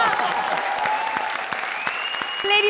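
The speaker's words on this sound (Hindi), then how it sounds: "जोरदार तालियां एक बार फिर" Studio audience applause on the Comedy Circus comedy show, a sustained loud burst of clapping filling the whole stretch, with a faint tone rising near the end.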